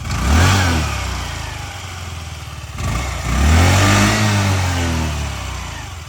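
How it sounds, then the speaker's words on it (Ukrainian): Honda Lead 110 JF19 fuel-injected scooter engine revs up twice, rising sharply and then falling back toward idle, loud and close with no talking. "Дуже-дуже добре працює двигун."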